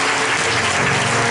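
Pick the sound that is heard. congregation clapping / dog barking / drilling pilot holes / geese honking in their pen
congregation clapping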